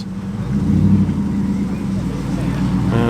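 A Triumph Stag classic car with its 3-litre Triumph V8 engine gives a steady, close engine rumble throughout, with some wind noise during a classic car road run.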